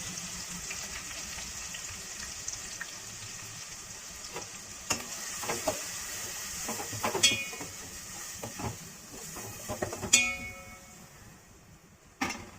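Onions and curry leaves sizzling in a pan with ginger-garlic paste for a country chicken curry, a soft steady fry broken by scrapes and clinks of a spoon stirring against the metal, fairly quiet and close.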